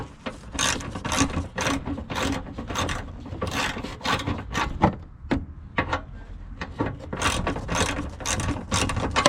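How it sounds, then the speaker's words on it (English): Cordless ratchet spinning out rusty headlight bolts on a 2008–2012 Chevy Malibu, a dense run of rapid mechanical clicking bursts heard close and loud throughout, with no talking. "The cordless ratchet be a lot faster."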